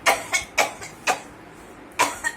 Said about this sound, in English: So always put a handkerchief and then cough like this.